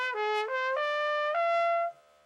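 A trumpet climbs the overtone series in one slurred line, each partial stepping up cleanly from the one before, a clear bright tone alone that stops abruptly.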